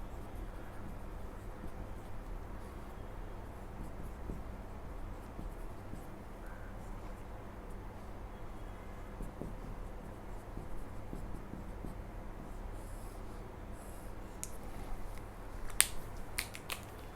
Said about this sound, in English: Next, now we write an important note.